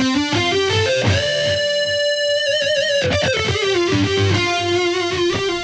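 Electric guitar through a Boss GX-100 processor with delay plays a melodic line, notes ringing on and repeating into one another, a lush echoing sustain, loud and alone.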